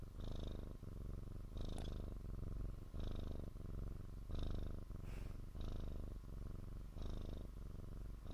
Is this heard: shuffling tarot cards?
no